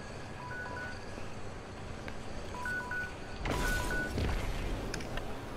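A phone rings faintly during a Destiny 2 gaming session, giving repeated pairs of short electronic tones in a steady pattern over hiss, with a louder burst of game noise partway through.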